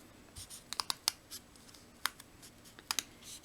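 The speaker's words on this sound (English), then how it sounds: "And you cut this all the way around." Scissors cutting around a paper shape for an embellishment container, quiet and close, with a few sharp snips and clicks spread unevenly over a soft background.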